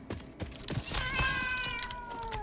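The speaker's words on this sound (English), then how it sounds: "Gotta kill all the cats." Cats meowing in the Satisfactory video game, v1.2, a drawn-out wavering meow rising over faint clicks and game noise, close and fairly loud.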